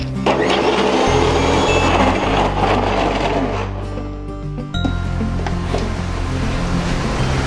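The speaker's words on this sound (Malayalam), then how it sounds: "കുറച്ച് വെള്ളം എടുത്തിട്ടുണ്ട്, മിക്സി അടിച്ച് കൊണ്ടുവരാം." An electric mixer grinder runs loud and close, blending anthurium plant roots and flowers with water, a steady whirring roar that dips briefly and then picks up again.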